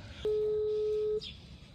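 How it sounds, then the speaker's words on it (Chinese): A telephone placing a call gives one steady electronic tone lasting about a second, clear over quiet room background. "现在给老赵打电话，看看他早上想吃点啥。"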